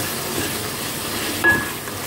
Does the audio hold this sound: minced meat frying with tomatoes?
yes